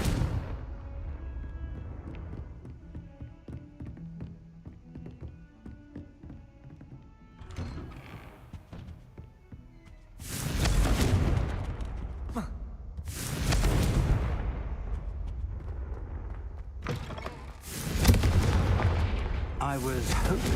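Several booming Confringo fire spell blasts in Hogwarts Legacy, each a broad roaring burst, following a quieter opening stretch with faint voices and game sounds, loud and close.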